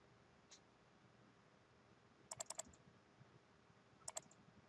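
A computer keyboard in a quiet room: short bursts of key presses, one quick run of four clicks and later a pair, for copying and pasting text into Notepad, with faint low hum between.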